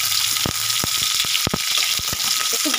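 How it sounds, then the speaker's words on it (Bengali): Chopped onion and cumin seeds fry in hot oil, a steady close sizzle broken by several sharp crackles and pops, with no talk. "একটু ভাজা ভাজা করে নেব"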